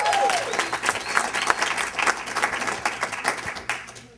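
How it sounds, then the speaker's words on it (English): Audience applause fills a room at a business mastermind gathering, a dense steady clatter of many hands clapping throughout, loud and close, fading out at the very end. "Let's give him a big round of applause."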